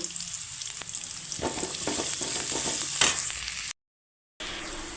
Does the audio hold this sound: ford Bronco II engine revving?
no